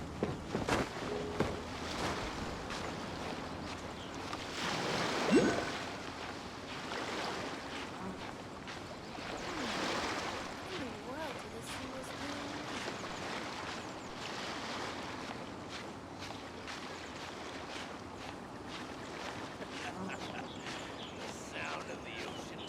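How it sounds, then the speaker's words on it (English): Ocean waves in Genshin Impact wash in slow, soft swells with steady wind, and a voice talks over them throughout. "The sound of the ocean waves."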